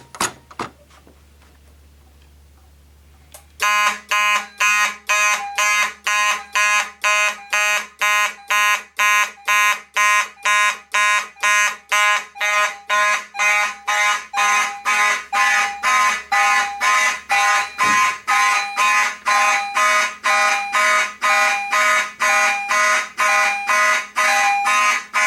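A fire alarm strobe panel sounding in march time, loud repeated evenly spaced alarm pulses that start abruptly after a few seconds of near silence and continue steadily, with one brief stumble in the beat partway through.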